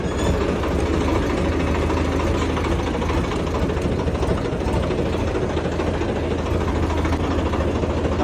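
A tractor engine runs steadily at idle on a farm, a low continuous rumble with a constant knocking throb, close and loud with no talk.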